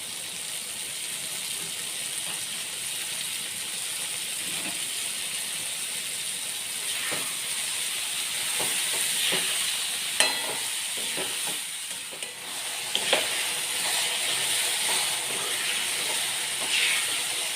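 Leafy bhaji greens tumble into cooked tomatoes with turmeric in a hot pan, giving a steady close sizzle and hiss broken by scraping, clattering stirs.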